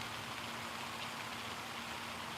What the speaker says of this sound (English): it's just the sound of a fountain in the background